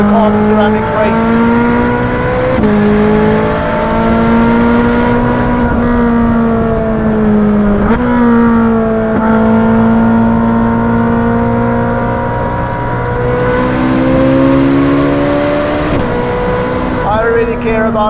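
Ferrari 458 Speciale fitted with a Novitec exhaust, driven on a public road, revving hard through its gears with a loud, continuous high-pitched engine wail that climbs and drops at each shift.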